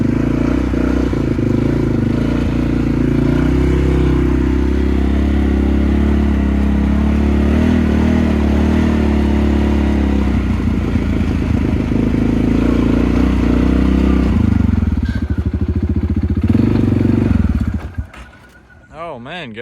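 A Polaris Sportsman 570 ATV engine runs loud and close with a steady throbbing idle and some clatter, then sputters and stalls near the end, leaving quieter rustling.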